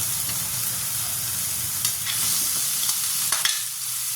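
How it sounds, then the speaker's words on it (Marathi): Continuous close-up sizzle of paneer frying in oil in a wok, with occasional soft scraping of a spatula. "याला मी असं कढईमध्ये थोडं तेल टाकून खमंग असे भाजले"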